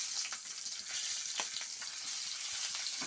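Green chillies frying slowly in a pan for a tomato-coriander pounded chutney, giving a steady close-up sizzle with scattered pops and light stirring scrapes throughout, with no voices.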